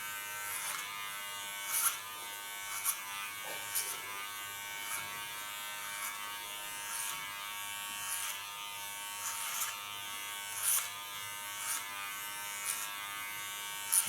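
Electric hair clippers buzz steadily while cutting an ultra-short haircut, a continuous high-pitched hum with small rhythmic surges as the blade passes through hair.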